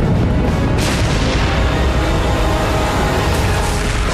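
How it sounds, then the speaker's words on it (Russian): A dense, continuous battle din of gunfire and explosions from a Normandy tank battle, with booming blasts and crackling shots blending into a loud, unbroken wall of sound. "Звуки выстрелов, взрывы"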